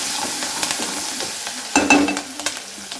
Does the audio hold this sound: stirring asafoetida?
yes